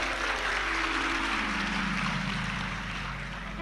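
An audience at a Hindu religious discourse claps in a thick, continuous wash of applause that holds steady and fades slightly toward the end, with no clear talking on top.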